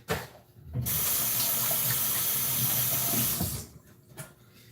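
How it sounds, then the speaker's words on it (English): A kitchen tap runs while hands are washed, a steady loud rush of water for about three seconds that starts and stops abruptly, with no talking. "So I had to wash my hands again real quick."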